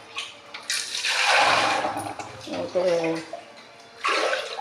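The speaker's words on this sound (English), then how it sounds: "more water is necessary to wash it and everything" Tap water gushing and splashing while small peppers and vegetables are washed, loud bursts of running water that stop and restart, with a voice talking over it.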